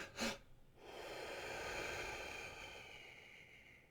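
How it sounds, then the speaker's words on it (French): A breathing exercise: one sharp, short exhale bursts out, then a long, steady, soft exhale of breath follows and slowly fades, heard close and quiet. "c'est une respiration en 2 temps et une longue expiration"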